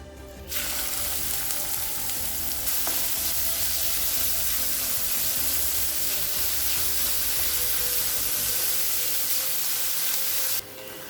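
Two finely chopped onions sizzle loudly in hot oil with cinnamon and cardamom, a close, steady crackling hiss that runs unbroken before stopping abruptly near the end.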